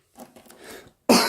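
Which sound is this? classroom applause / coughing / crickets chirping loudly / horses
coughing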